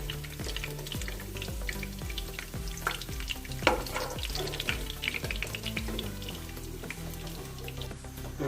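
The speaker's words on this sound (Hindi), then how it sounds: "तो इसमें अभी हमने बड़ा इलायची और जीरा डाल दिया। अब इसको थोड़ा सा हमने फ्राई करना है।" Black cardamom and cumin frying in a pot for Afghan Kabuli pulao, a faint, steady crackling sizzle with light stirring taps over quiet background music.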